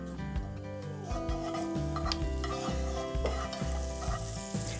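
Onions sizzling in melted butter in a skillet for chicken fajitas, a steady frying hiss with stirring scrapes and clatters of the utensil against the pan throughout, close by.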